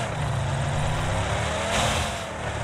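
A golden car's engine in the mobile battle royale game PUBG Mobile hums and revs steadily, a constant mid-pitched motor drone that swells slightly near the middle, heard alone without talk.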